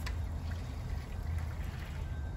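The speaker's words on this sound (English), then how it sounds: "So just go ahead and let that water drain" Water drains from a shrimp boil pot for a New Orleans shrimp boil, a steady trickling and pouring under low outdoor rumble, with no talk.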